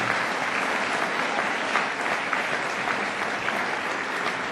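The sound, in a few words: audience round of applause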